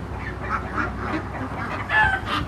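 Geese and ducks honk and call near a river on a farm. Scattered nasal calls come over a low, steady background, with a louder cluster of honks near the end.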